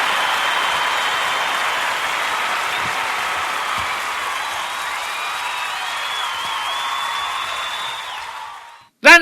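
A round of applause from a lunchtime live show audience, dense sustained clapping that holds steady and fades out before a brief voice cuts in at the end.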